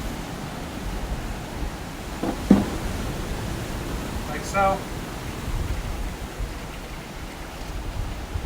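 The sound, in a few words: draining cooked pasta water through a colander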